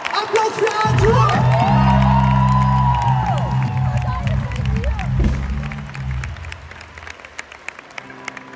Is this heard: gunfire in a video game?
no